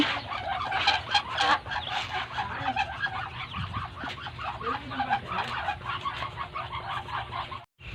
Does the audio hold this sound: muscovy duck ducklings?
yes